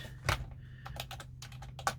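Fingers tap a computer keyboard in short irregular bursts of crisp clicks, close and moderately quiet over a low steady hum.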